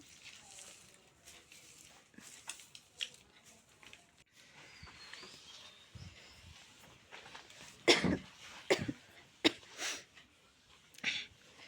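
A woman with a cold coughs indoors at home, a few short, close bursts spaced through the second half after quieter rustling and shuffling.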